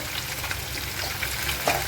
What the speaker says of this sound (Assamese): পূৰা কাৰাকৈ ভাজা হ'ব লাগিব